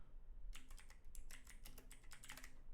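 Fingers tap out a short burst of typing on a computer keyboard, a quick irregular patter of crisp clicks heard close and quiet against a near-silent room.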